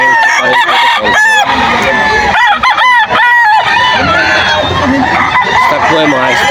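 Several Kelso roosters, including stag birds, crow loudly and repeatedly at a busy Bocaue, Bulacan poultry gathering, overlapping calls standing over dense crowd noise and talk.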